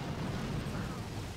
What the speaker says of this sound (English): take out the boom cannon and the shock blaster